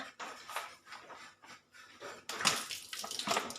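Water poured into a new bottle that will be chilled in the fridge, a steady close splashing and gurgling that drops out briefly, then comes back louder and fuller, with no speech.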